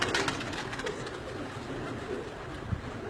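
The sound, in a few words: pigeons cooing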